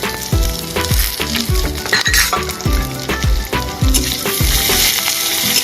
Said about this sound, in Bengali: এবার এগুলো লাল লাল করে ভেজে নেব।